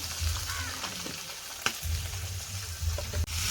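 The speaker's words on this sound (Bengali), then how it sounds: "কড়াই দিয়ে দেবো লঙ্কা" Shrimp fry in a hot kadai with green chili and five-spice seeds, a steady close sizzle broken by a couple of sharp utensil clicks against the pan.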